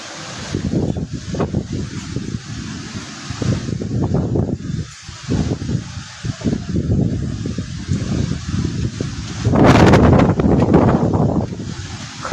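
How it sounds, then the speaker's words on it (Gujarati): Gusty storm wind roars in uneven surges through swaying mango trees, loud and close, with a heavier blast of buffeting noise near the end. "જોજો પવન તો જો"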